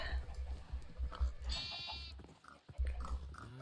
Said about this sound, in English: we'll get a little gray baby sheep